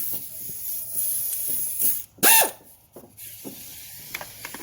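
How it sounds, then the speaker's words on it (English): An air ratchet tightens bolts back down, giving one short, loud pneumatic hiss and whirr in the middle, with softer clanks and handling noises around it. "I'm going to dip in here and use my air ratchet"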